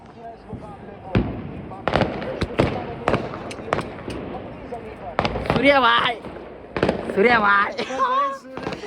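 Fireworks crack and pop repeatedly at irregular intervals, sharp and fairly close, while excited voices shout over them, celebrating a T20 World Cup cricket win.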